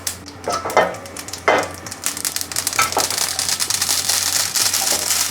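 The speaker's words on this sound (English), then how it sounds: "The pan is smoking hot, we're going in with our mustard seeds." Mustard seeds crackle and sizzle as they hit smoking-hot coconut oil in a pan, a loud, dense frying hiss with sharp bursts of popping near the start, alone and close.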